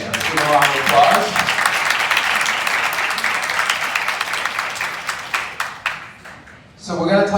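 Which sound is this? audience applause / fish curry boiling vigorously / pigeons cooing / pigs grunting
audience applause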